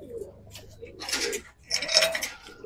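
Pigeons in a loft coo in soft low murmurs nearby, with a few brighter chirpy bird calls and light rustling layered over them in short bursts.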